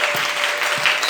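A church congregation claps to welcome a preacher at a Sunday first service, a loud, dense burst of many hands clapping without pause, close and filling the room.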